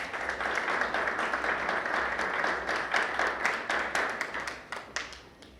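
Audience applause for a finalist at a national debate competition, a full crowd clapping steadily and then thinning out, with individual claps growing more distinct as it fades.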